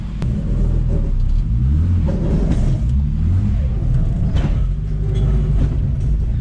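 A BMW E30 with a freshly rebuilt forged turbo M50 engine pulls hard, its loud, close engine note rising and falling through the revs with a continuous deep rumble and no talking.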